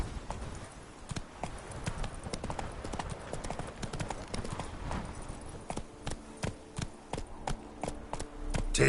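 Horse hooves clip-clop in a steady, fairly close rhythm while riding in The Witcher 3: Blood and Wine, sharp regular hits over a soft game ambience, growing more distinct toward the end.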